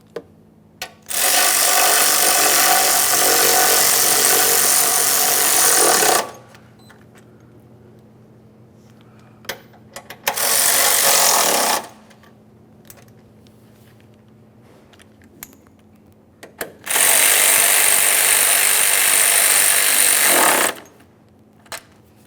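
Power tool running in three bursts, about five, two and four seconds long, separated by quiet pauses, while tightening the bolts on a washer fluid reservoir of a 2017-2024 GMC Acadia. The ratcheting whir is loud and close, with no talk.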